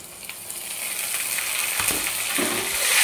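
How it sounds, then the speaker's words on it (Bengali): Chopped tomato dropped into hot spice paste for a country chicken and potato curry, a bright close sizzle that swells louder toward the end, with a few soft spoon knocks. "এবার আমি কিছু পরিমাণ টমেটো কুচি দিয়ে দেব।"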